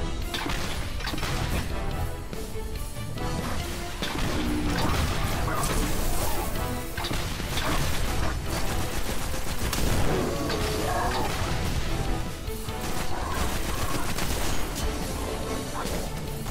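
Video game Destiny gunfire aimed at the player comes in dense, continuous volleys of shots and impacts, loud and unbroken within a busy combat mix.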